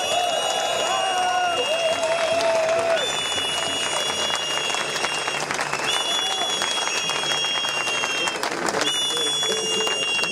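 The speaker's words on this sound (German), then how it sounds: "Bitte einen jubelnden Applaus für ihn" Steady applause from a crowd at an outdoor data-protection demonstration in Berlin, loud and continuous throughout with scattered cheers and whistles rising above the clapping.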